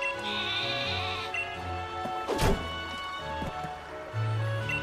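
A sheep Pokémon bleats in Pokémon Sword, a steady game-made cry over layered music, with a sharp crash midway and another short tone near the end.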